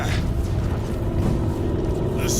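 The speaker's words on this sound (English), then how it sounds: "I hear engines." Spaceship engines from Warhammer 40K: Space Marine 2 roar as a loud, continuous, broad rumble that fills the whole clip.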